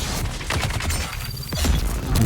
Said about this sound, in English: They're gonna do the explosions.